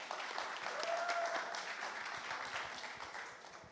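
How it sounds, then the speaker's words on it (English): Audience claps for the panelists at a travel-industry conference panel, a fairly faint, even wash of many hands from across the room, holding steady for several seconds with no clear speech over it. "Feel free to have applause"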